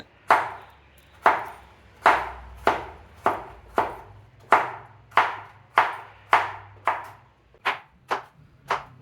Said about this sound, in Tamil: இந்த புடலங்காவை ஒரு சின்ன சின்ன பீஸாக கட் பண்ண போகிறோம்